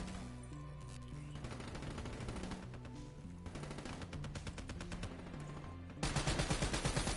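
Gunfire in the shooter game Black Ops 3 on its hardest difficulty, with rapid automatic bursts and layered battle noise behind game music that grow louder and denser near the end.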